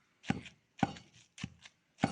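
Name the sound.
pounding salted gongura leaves and green chillies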